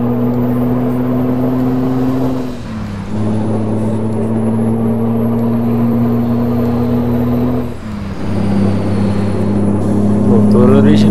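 Scania 113H truck engine in Euro Truck Simulator 2 drones steadily with a strong low hum, dipping briefly twice as gears shift, then building again near the end, with no talk over it.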